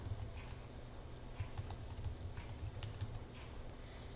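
Keys clatter in an irregular run of light clicks as text is typed on a computer keyboard in a word processor, close and fairly quiet against a faint steady hum, with no one talking.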